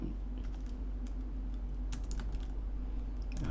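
Keys clatter on a computer keyboard while code is entered, a brief irregular burst of clicks over a constant low hum, close by with no voice.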